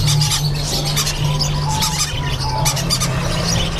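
Diamond doves and other caged birds in a crowded bird shop, a loud continuous chorus of chirps, squeaks and squawks over a steady low hum.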